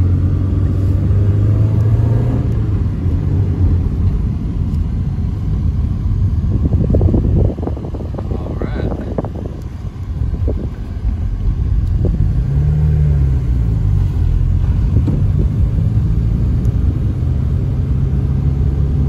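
A 5-speed manual car drives with a loud, steady low engine drone and road rumble inside the cabin, a midway surge as the engine revs and shifts, and constant wind noise over the microphone.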